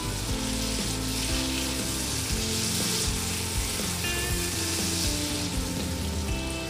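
Minced garlic and translucent onion sautéing for beef kaldereta, a loud steady sizzle close to the pan with scraping and knocks of stirring throughout.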